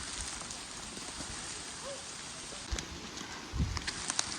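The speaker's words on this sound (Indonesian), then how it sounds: "Tapi ini tuh hujannya lumayan deras woy." Heavy rain falls steadily on Mount Ciremai in cold, bad weather, a dense broadband hiss with a few louder drops and brief thumps near the end.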